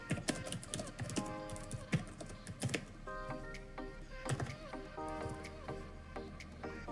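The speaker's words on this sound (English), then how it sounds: "So let's type out something with this." Fingers tap out text on a computer keyboard in quick, uneven bursts of close clicks, with faint background tones underneath.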